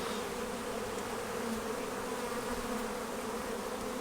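Honeybees at a hive during a weekly beekeeping inspection, several clustered together sharing pollen, give off a steady, close insect buzz that drones evenly throughout without any voices.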